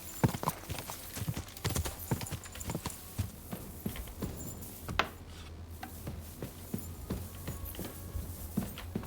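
A horse is ridden in the video game Kingdom Come: Deliverance 2, its hooves clip-clopping in a steady, fairly close rhythm with faint rubbing and creaking under it and no talking.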